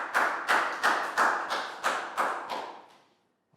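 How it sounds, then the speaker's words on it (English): A small group of Year 3 pupils in a maths classroom clap together in about eight short, evenly spaced bursts that fade out, with no talking over it. "Big round of applause for Prel."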